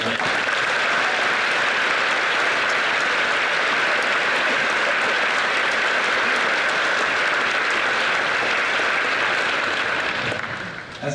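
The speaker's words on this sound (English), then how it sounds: "Please join me in another round of applause for this beautiful opening music by the TCU Symphony" Prolonged, dense applause from a large audience at a university convocation of academic excellence following a symphony performance, loud and steady for about ten seconds before tapering off.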